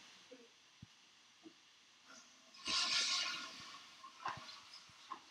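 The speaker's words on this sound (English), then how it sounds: "I'm flushing the toilet" A toilet flushes with a rushing, hissing burst of water lasting about a second and a half, heard at a moderate distance amid scattered small clicks and knocks.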